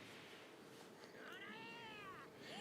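A cat meows once in a drawn-out, wavering call, faint and somewhat distant over a steady background hiss, with a shorter trailing cry near the end.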